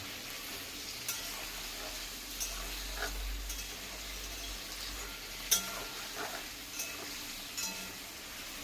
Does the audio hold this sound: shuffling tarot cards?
no